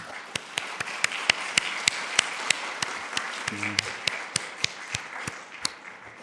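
Sparse, fairly distant clapping from a church congregation applauding the mothers during a Sunday service, with individual sharp claps standing out at a loose, uneven rhythm.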